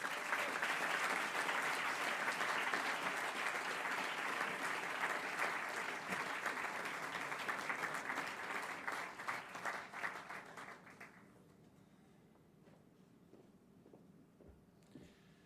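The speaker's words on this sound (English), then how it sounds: "Ladies and gentlemen, a warm applause for Emily Ana Insua." An audience claps warmly for a graduating student at a school ceremony, a dense sustained round of applause that gradually thins out and fades to near silence by the end.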